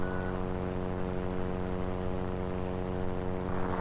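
Cessna 337 Skymaster in flight with its rear engine at full power and the front engine shut down, a steady, loud propeller drone filling the cabin without a break.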